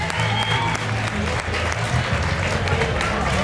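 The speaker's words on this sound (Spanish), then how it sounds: "Un fuerte aplauso para este bravo piloto de aquí." Steady, dense applause from an indoor crowd at a rally awards ceremony for a driver, continuous and fairly loud throughout, with voices mixed in.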